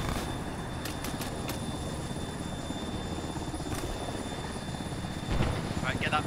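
A helicopter in the military video game Arma 3 runs as a steady, loud rotor and engine drone throughout, with radio voices talking over it.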